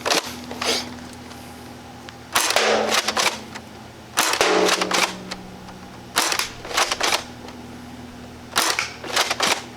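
Dart Zone Dictator foam dart blaster firing in several sharp, clustered bursts of snappy shots, spaced a couple of seconds apart with quiet gaps between, close and fairly loud.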